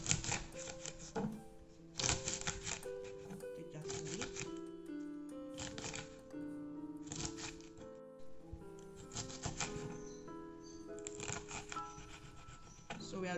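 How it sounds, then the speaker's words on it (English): A knife chops runner beans on a chopping board in quick bursts of rapid taps, pausing between runs, with steady background music playing throughout. "So we'll start by cutting our runner beans. We'll cut off the edges, put it aside, we'll cut it all off."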